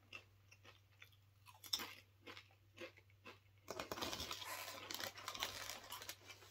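Canadian Doritos tortilla chips chewed and crunched close to the mic, with sporadic bites first and then dense, continuous crunching, no talk.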